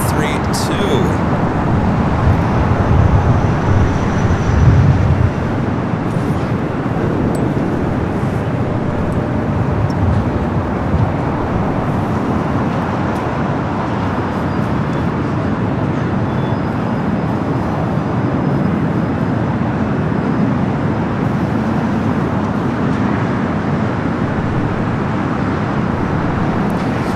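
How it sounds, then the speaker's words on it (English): An SAS airliner bound for Copenhagen rolls down runway 24 left at Los Angeles airport, its engines giving a sustained, loud jet roar that stays steady across the whole stretch, with talk over it. "SAS now rolling down 24 left, heading back to Copenhagen"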